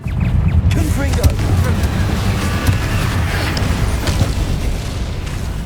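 Confringo, an explosive fire spell in Hogwarts Legacy, sets off a loud, sustained roar of booming blasts and rumbling debris that fills the whole stretch without a break.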